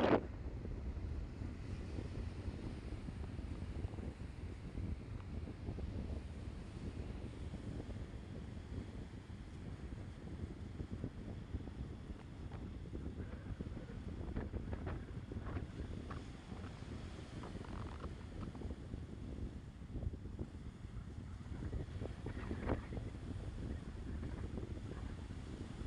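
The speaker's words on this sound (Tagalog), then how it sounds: "Lakas ng hangin." Strong wind blowing by a river, a steady roaring rush with heavy buffeting against the microphone, continuous and fairly loud with no voices.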